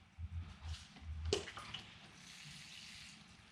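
Water trickles into zip-top bags holding bonsai seeds, a short faint splash and pour near the start that thins into a soft continuing trickle.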